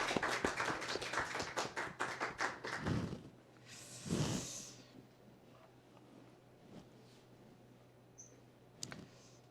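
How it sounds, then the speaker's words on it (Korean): A church congregation at a Sunday worship service breaks into quick, dense clapping for about three seconds, then it stops. A softer rustle and a couple of faint thuds follow in the quiet room. "우리 박수 한 번 더 해주시기 바랍니다"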